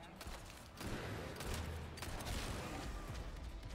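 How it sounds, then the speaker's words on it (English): Gunfire in the Resident Evil 4 Ada DLC sounds as a dense run of rapid shots and booms under a steady game soundscape, continuous and fairly faint, with no speech. "Let's just keep shooting that one."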